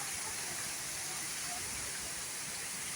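A waterfall at a tourist spot in Chiang Mai, Thailand, gives a steady broad rushing hiss that fills the scene evenly, heard close and without break.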